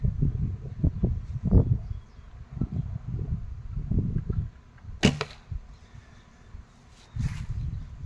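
Arrows released from a recurve bow during tuning give soft thumps and whooshes, followed by a couple of sharp impacts on a target, at close range outdoors with rustling in between.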